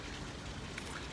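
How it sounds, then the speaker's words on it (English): A faint, even hiss of rain fills the short stretch, soft and distant, with no voices or other distinct sounds. "It's raining."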